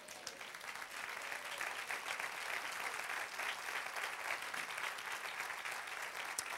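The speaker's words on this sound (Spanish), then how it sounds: "Dale un aplauso al Señor." Steady, dense applause from a church congregation during a Spanish-language sermon, sustained and even throughout with no talking over it.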